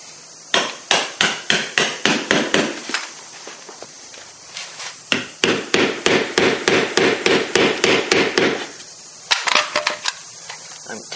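A hammer pounds nails flush into drywall in quick rhythmic bursts, dozens of sharp close strikes grouped into runs with short pauses between, loud and alone.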